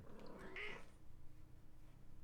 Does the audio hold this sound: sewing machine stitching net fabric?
no